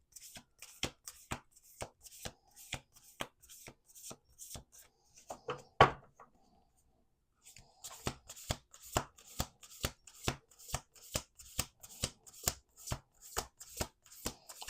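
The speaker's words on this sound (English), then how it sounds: "we're going to do 2 more shuffles" A deck of playing cards being shuffled by hand in quick, crisp riffling snaps, a steady run of sharp clicks, a brief pause with one louder knock, then another even series, close and clear with no talking.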